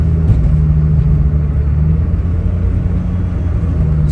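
A Daihatsu Mira Gino accelerating in fourth gear on a highway, its small engine giving a steady droning rumble with road noise, loud and close from inside the cabin throughout.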